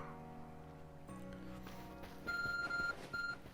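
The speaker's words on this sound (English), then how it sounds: "Your ARC phone is beeping" An ARC phone beeps in Pokémon Legends: Arceus, sounding as a series of short, high electronic beeps in quick pulses over soft game music.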